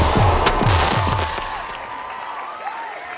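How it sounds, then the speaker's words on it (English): A fireworks sound effect plays loudly: several whistling rockets swoop downward in quick succession, then crackle and pop, and the sound fades into a scattered fizzle. "Let's give you some more fireworks."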